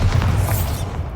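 The Bombarda spell in Hogwarts Legacy goes off as a short, heavy boom with a deep rumble that fades over about a second.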